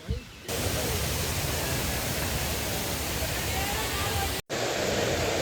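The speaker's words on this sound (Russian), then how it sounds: "Слышны звуки водопада, громкие такие." A loud waterfall in a tropical forest near Gokarna, India, gives off a dense, constant roar of rushing water that swells in after a quiet start and holds steady, broken only by a brief dropout near the end.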